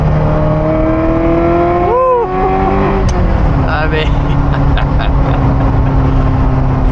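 A Ferrari 348 engine revs hard while driving, its loud, sustained drone climbing and dipping through gear changes, with a brief pitch sweep partway through; a voice cheers and speaks briefly over it.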